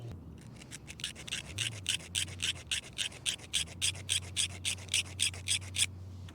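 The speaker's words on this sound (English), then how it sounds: "That hook that I said might be bent earlier was bent, so I'm gonna sharpen it." A metal file sharpens a bent fishing hook on a jon boat, giving about twenty steady, evenly timed rasping strokes, close and fairly loud, over a low continuous motor hum.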